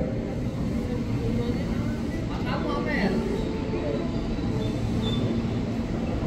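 A KRL JR 205 commuter electric train at Jatinegara station, a loud continuous rumble of rolling cars with a brief wheel squeal midway, while a station announcement plays over it.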